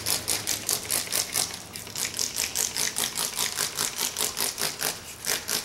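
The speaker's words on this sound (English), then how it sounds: "So we're just gonna spray a bunch of this in there all over." A spray bottle pumps rust-prevention detail spray into the seams of a car, giving a rapid, steady run of short hissing spritzes, several per second, close and fairly loud with no talking.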